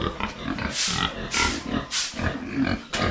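A pig grunts and snorts in a farm pen, with several rough bursts in an uneven rhythm, close and fairly loud, and no talking over them.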